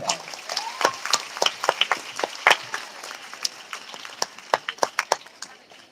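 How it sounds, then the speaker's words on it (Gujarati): An audience at a school prize-distribution ceremony applauds steadily, a dense crackle of many hands clapping with louder individual claps standing out, continuous throughout. "ડોક્ટર નંદિતાબેન જોરદાર તાળીઓથી"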